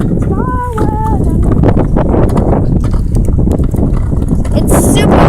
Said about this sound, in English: It's super windy. I'm sorry if you hear the wind.